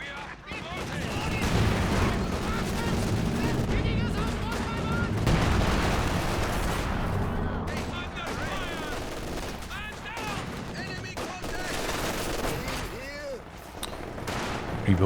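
Machine gun fire and other gunfire crackle through a Company of Heroes 2 match involving a T-70 tank, with dense overlapping bursts and explosions running continuously throughout.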